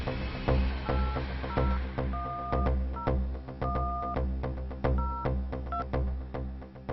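A phone call is placed over a line that is being hacked: a rhythmic run of paired dialing tones, each short beep sitting over a steady pulsing mechanical hum.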